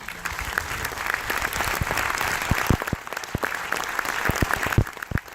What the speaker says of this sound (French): Moi je dis qu'on peut les applaudir très fort.